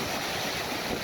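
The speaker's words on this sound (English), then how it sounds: "the wind's blowing" Wind buffeting a microphone at Madeira Beach on the Gulf of Mexico, a brief, steady, loud rushing roar with surf-like noise.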